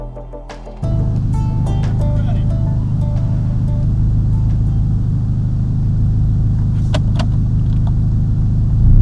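A rallycross car racing at the limit in a heat run, its engine becoming a loud, steady roar after a short quieter start, close and continuous with a few sharp knocks near the end.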